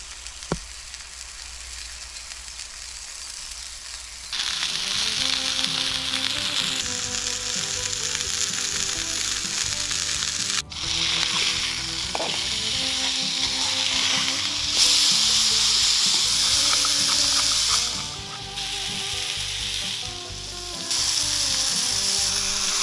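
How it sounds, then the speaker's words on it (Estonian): Meat sizzles steadily while being grilled in oil in a tin can outdoors in the woods, a loud continuous frying crackle with faint birdsong behind it and occasional small clinks. "Ja nüüd natukene ootame taustaks linnulaul ja särisev liha."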